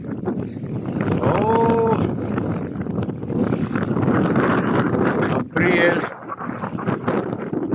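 Cold wind gusting hard over a stormy lake near a Belarusian village, a constant roaring rush into the microphone, with someone speaking briefly.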